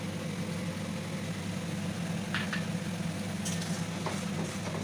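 Onions frying with ginger, garlic and green chilli paste in hot oil make a steady, even sizzle throughout, with a few faint clinks of a stirring utensil near the middle.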